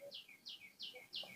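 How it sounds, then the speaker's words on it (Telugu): A small bird calls four times in a steady, evenly spaced series of short, bright, high chirps. Each chirp is clear and moderately close over a quiet background. "పిట్ట అరుస్తుంది చూడు, ఆ పిట్టని."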